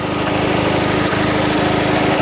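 An old Invacar engine running with a steady, loud, rough idle and a rapid low chugging pulse, close up and continuous, with no talking.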